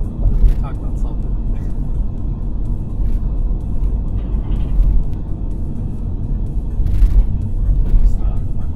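Steady road traffic rumbles around a car driving in Japan, a continuous low engine and road drone with occasional passing swells, while someone talks over it throughout.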